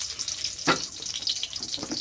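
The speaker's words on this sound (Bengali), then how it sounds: "এবার কড়াইতে দিচ্ছি সরষের তেল," A bay leaf drops into hot mustard oil in a kadai, producing a sharp burst of sizzling followed by a continuous, close frying hiss with light crackles.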